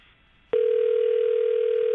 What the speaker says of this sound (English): Come on, Julian, pick up the phone.